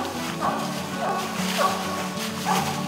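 A hunting dog bays at a treed raccoon in the Ozark hills, letting out about four evenly spaced barks at a moderate distance over a steady low background rumble.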